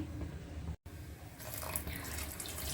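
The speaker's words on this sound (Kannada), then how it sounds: "ಒಂಚೂರು ನೀರು ಹಾಕೊತಾ ಇದ್ದೀನಿ." Water pouring into a pan of chicken curry masala for koli saaru, heard as a soft, steady splashing stream with one brief break.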